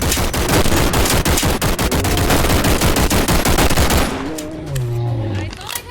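Rapid automatic gunfire from a fast gun in a video game, a loud dense burst of shots for about four seconds, then stopping as game sounds and a voice continue.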